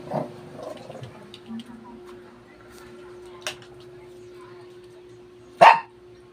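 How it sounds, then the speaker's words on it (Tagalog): A single dog bark rings out near the end, after a few quiet murmurs and a steady low hum in an otherwise calm room. "Tahol ng tahol."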